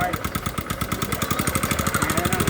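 Honda TMX Supremo motorcycle engine running with a worn rocker arm bearing, a steady rhythmic chugging beat overlaid by a faint high cricket-like chirping rattle, close and continuous.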